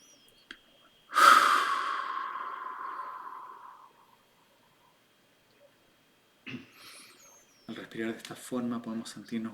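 One long, deep breath is drawn in and released slowly and close by over about three seconds, followed by quiet and then a person talking.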